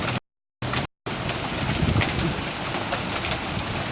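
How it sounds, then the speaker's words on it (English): Hail pelts down steadily during a tornado storm, a dense, constant hiss and rattle with no voices, broken near the start by two brief dropouts. "Here comes the hail again."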